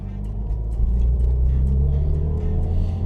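A 1962 Jaguar E-type Series 1 coupe with its 3.8 liter engine, driving, gives a steady, loud, close low rumble with a strong droning engine note throughout.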